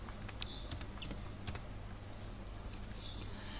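Quick, light keystrokes tap on a computer keyboard in a short burst and then again after a pause, close and fairly quiet over a steady background hum with no talking.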